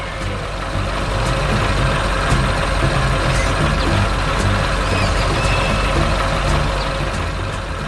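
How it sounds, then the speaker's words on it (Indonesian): A digging truck in a cartoon scene rumbles steadily beside a rock, its heavy, loud engine drone running nonstop with faint higher whines and clanks layered above it. "Truk sedang menggali di samping batu, membuat tanah berdebu"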